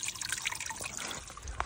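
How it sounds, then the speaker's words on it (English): Spring water trickles from a leaf spout with a soft, continuous close-up dribble and splash, faint overall with one small sharper drip near the end. "You can get a nice little faucet coming out."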